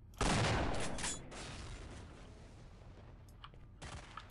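Sniper rifle fire indoors in the video game Stalker: a loud burst of gunfire at the start, then a long decaying room echo that fades with a few faint clicks and small impacts near the end.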